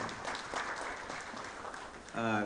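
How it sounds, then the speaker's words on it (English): A conference audience at a cyber security indaba claps in a steady wash of applause for a couple of seconds, then a voice begins speaking over it. "Another round of applause, please."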